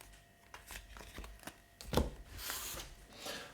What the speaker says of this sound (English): I swap all the cards